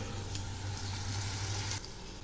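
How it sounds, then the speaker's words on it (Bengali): Whisked yogurt added to a hot pan of cauliflower korma, a steady bright sizzle that eases off slightly after a couple of seconds. "এবার আমি ফেটিয়ে নেওয়া দইটা দিয়ে দিলাম।"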